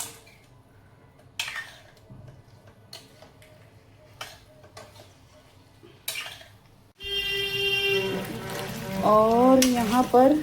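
Gatte dropped into spice masala start frying about two-thirds of the way in: a sudden louder sizzle with bubbling follows quieter kitchen clatter and ticks, and a voice rises over the cooking near the end.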